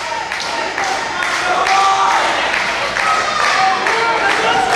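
At a CWF Mid-Atlantic tag-team wrestling match, the arena crowd cheers and claps in a steady roar with a few shouts, swelling in repeated surges, while a commentator's voice runs underneath.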